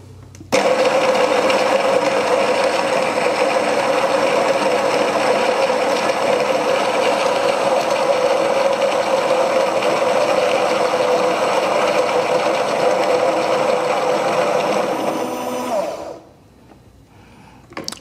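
Coffee beans grinding in the built-in grinder of a Sincreative CM5700 semi-automatic espresso machine, set to about 9: a loud, steady motor whir that runs unbroken for about fifteen seconds, then cuts off abruptly into quiet.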